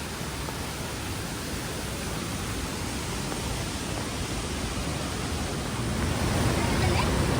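Somtirth waterfall near Malgund and Ganpatipule, a continuous, even rush of falling water that fills the whole clip and swells slightly toward the end.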